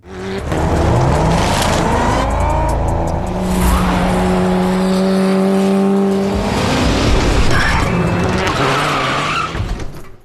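Race cars overtaking each other on a track in a film, with loud screaming tire squeals and skids over roaring engines, sustained and close throughout.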